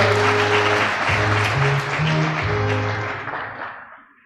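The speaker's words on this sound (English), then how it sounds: "can we give ourselves as a university a clap" Audience applause at a university student association inauguration ceremony in Kenya, loud sustained clapping from a large crowd with a steady amplified hum beneath, fading away toward the end.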